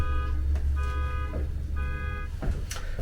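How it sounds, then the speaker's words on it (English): A car alarm sounds outdoors, repeating a steady electronic pattern of high tonal bursts in roughly half-second pulses, fairly loud against a low rumbling background. "That was my car alarm."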